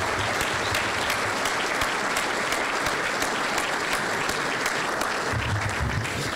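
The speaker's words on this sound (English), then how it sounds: "If we could just join in a round of applause and thank them for their sponsorship" A banquet crowd at the 2012 AHCA Convention men's banquet gives sponsors a steady round of applause, dense even clapping throughout with a faint voice underneath toward the end.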